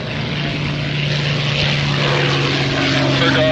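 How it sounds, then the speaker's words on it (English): Four Cessna Bird Dog propeller airplanes arriving to land at Oshkosh AirVenture, a continuous droning engine hum holding steady and fairly loud throughout, with faint voices in the background. "Clear to land, bird dog flight of 4."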